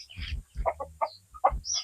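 Several laying hens cluck in short, irregular bursts, close by, with soft chirps between the calls.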